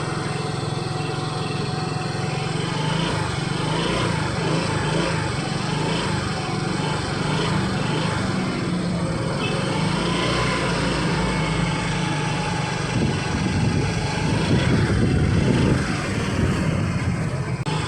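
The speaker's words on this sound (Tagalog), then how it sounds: "Grabe, ang lakas oh. Ganda ng motor." Motorcycle engine idling and revving loudly right after a fuel pump repair, a steady close buzzing drone that swells louder toward the end.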